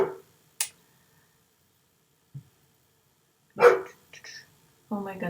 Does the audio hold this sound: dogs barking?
yes